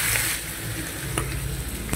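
Steady, loud sizzling of pre-cooked pork sautéed with onion and garlic in a hot pan for menudo, close and continuous with a couple of faint utensil scrapes.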